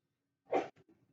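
A single short, sharp sneeze bursts out of quiet, followed by a couple of faint breaths or rustles.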